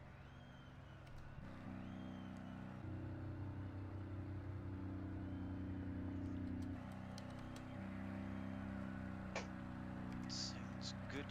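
Race cars at the Bathurst 1000 roll around on a formation lap behind the safety car. Their engines make a faint, steady low drone that shifts slightly in pitch, with people talking over it.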